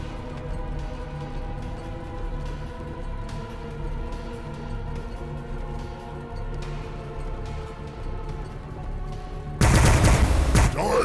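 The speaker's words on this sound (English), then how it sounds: "They shoot at us!" Sustained gunfire rolls through a battle in Warhammer 40,000: Battlesector, a dense rattling fusillade that holds steady, then swells sharply louder in a final burst near the end; no one speaks.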